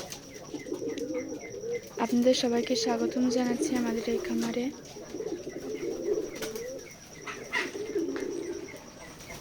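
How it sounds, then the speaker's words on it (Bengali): Pigeons coo steadily in low, rolling phrases throughout a pigeon farm in Betikhola, Keshabpur, Jessore, while someone speaks over them nearby. "এটা আমাদের ফার্ম হাউস, কবুতরের খামার।"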